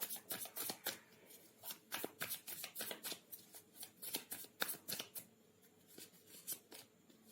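Tarot cards being shuffled by hand, a quick run of soft riffling and slapping bursts repeating close up and fairly quiet, with no voices over them.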